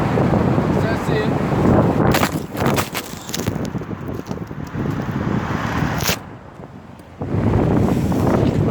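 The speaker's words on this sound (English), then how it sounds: "man, it is windy today" Strong wind blows outdoors at a camp, buffeting the microphone in loud, rough gusts that rise and fall, briefly dropping away before surging back, with someone speaking over it.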